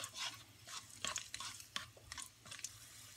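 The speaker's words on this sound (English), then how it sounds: "now we're going to fry the garlic until it's brown, slightly brown" Garlic fries in olive oil with a soft crackle and sizzle, while a utensil stirs and scrapes in quick, irregular strokes, close but fairly quiet.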